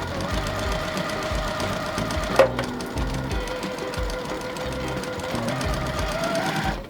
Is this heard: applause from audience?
no